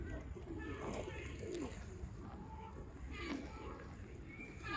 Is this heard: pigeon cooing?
yes